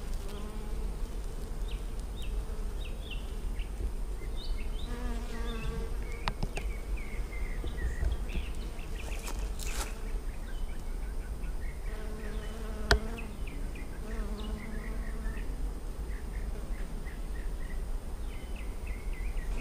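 Honeybees drone continuously around large backyard beehives during a small fall honey harvest, a steady close buzz with individual bees passing near, and faint birdsong in the background.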